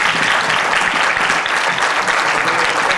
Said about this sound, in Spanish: Yo creo que le tenemos que dar un fuerte aplauso a Juan Carlos.